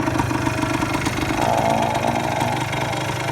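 A restored 1977 Suzuki PE250 single-cylinder motorcycle engine runs nearby, a loud, steady, throbbing idle with a slight rise in the middle.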